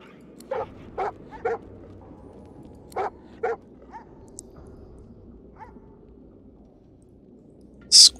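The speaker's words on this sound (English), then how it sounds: "Squint at the hound called Emmy and ask if she knows an old dog named Buddy." A hound in the video game Divinity: Original Sin 2 gives a few sharp, separate barks and whimpering yips spaced across several seconds over a quiet ambient backdrop, with a brief bright sound effect at the end.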